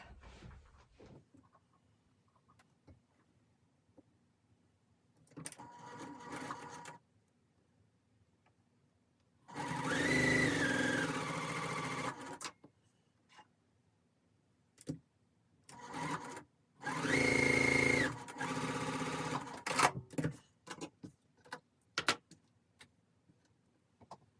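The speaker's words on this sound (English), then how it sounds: "let's get these two sewn up" A sewing machine stitches quilt block pieces for a pressed flowers quilt in two loud, sustained bursts of several seconds each, close by, separated by quiet pauses and shorter stops and starts, with no talking.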